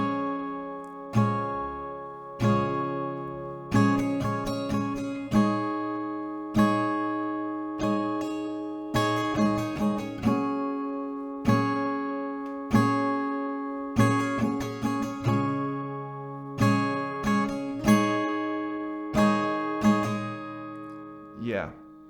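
Acoustic guitar slowly works through one round of a song's verse, with strummed chords rising and decaying in an unhurried pattern, close and clear with no talking.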